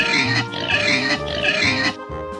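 A farm pig oinks loudly in a run of repeated grunts and squeals for about two seconds, then cuts off, as in a children's farm animal sounds lesson.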